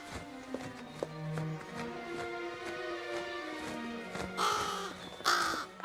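A crow caws in a cartoon scene, giving several hoarse calls that grow louder toward the end, over soft tapping and footstep-like sounds.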